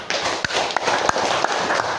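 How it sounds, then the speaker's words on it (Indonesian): A classroom of students claps hands together in a dense, lively patter of overlapping claps, steady and close for the whole moment. "Tepuk tangan."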